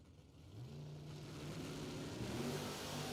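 A 1955 Chevy drag racing car launching at a drag strip bracket race, its medium engine revving up steadily and loud with a rising tone, sustained throughout with no talk.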